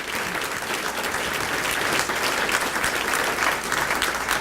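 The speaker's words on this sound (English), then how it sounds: "Let's give David another round of applause" A seated audience at the City Club of Chicago claps steadily after a news talk, a dense and even wash of applause with no voices over it for several seconds.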